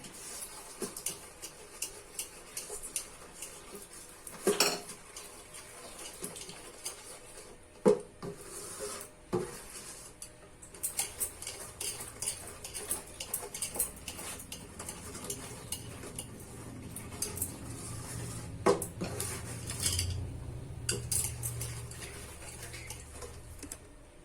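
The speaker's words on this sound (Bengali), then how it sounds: "এখানে এরকম করে হাতটা চালিয়ে হাতাটাকে চালাতে হবে কন্টিনিউ থামা যাবে না" A metal ladle stirs sugar syrup in a pot while making danadar sweets, giving a steady run of scraping, rubbing and clinking taps against the pot, with a few louder knocks along the way and no talk.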